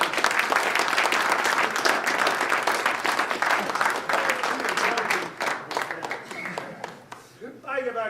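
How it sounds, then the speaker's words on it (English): Audience applause at a corporate comedy magic show, a dense wash of many hands clapping that holds loud for several seconds, then thins out and fades near the end, with a voice cutting in briefly. "You get a big round of applause for being a good sport."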